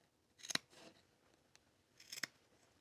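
Sewing scissors snip V-shaped notches into fabric for a Christmas tree skirt, two quiet, close, crisp cuts about two seconds apart, each a brief double snip, with a light rustle in between.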